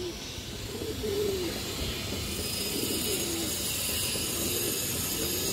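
A pair of silver-line pigeons coo softly in a low, repeating pattern over steady background noise, with a few faint mechanical clicks.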